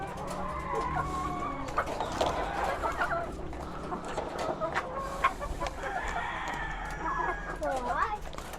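Pet chickens cluck and call repeatedly while being fed, with a rooster-like crow mixed in, fairly close and continuous over a busy farmyard background as a person talks nearby.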